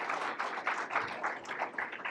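Hand clapping from an audience at a school board meeting, a steady dense patter of many hands, moderately close and even in level throughout, with no voices over it.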